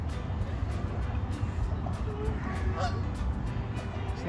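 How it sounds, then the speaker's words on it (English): Several geese sitting in a road honk repeatedly in short bursts, fairly near, against a steady outdoor rumble during a bike ride on an island. "look at these geese are just sitting in the road"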